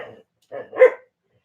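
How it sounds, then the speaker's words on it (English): Tallulah the dog barks indoors: a few short, sharp barks in quick succession, close and moderately loud, with brief silence after them. "Oh, now Tallulah's going to bark."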